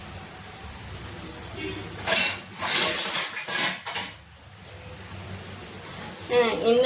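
A lidded tin spice container handled in a kitchen, with metallic clanks and scraping bursts of the lid and tin against other vessels, close and fairly loud, while a person talks over it.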